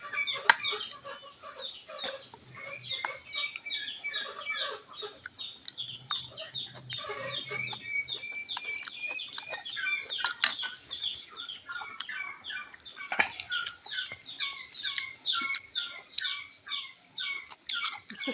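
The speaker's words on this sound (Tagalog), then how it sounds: "Pabo, maingay man." A noisy flock of turkeys gobbling and clucking continuously, overlapping calls rising and falling in a busy, nearby chatter.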